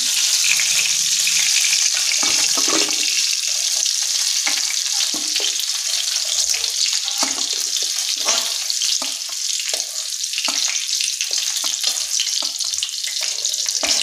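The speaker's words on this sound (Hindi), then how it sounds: "हमें चलाते हुए भूनना है।" Broccoli, cauliflower and potato stir-fried in a kadhai, with a steady loud sizzle and scraping spoon strokes running throughout, no talking.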